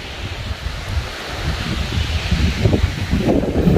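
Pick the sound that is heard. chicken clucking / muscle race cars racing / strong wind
strong wind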